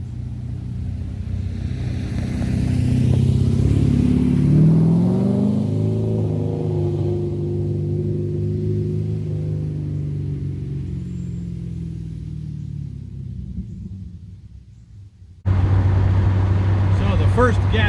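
A Porsche 944 with an LS V8 swap out on the road: a loud, deep engine drone rises and falls through acceleration, then drops away before the sound cuts abruptly to a rougher, closer engine tone.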